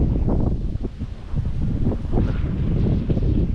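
Strong gusting wind roars at the top of a tree, loud and continuous, with leaves rustling and heavy buffeting against the microphone throughout.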